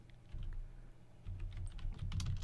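Typing on a computer keyboard while entering chapter timestamps, a steady run of soft, close key clicks with slightly heavier strokes toward the end, no voices.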